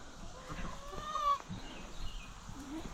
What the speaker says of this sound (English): I love my chickens.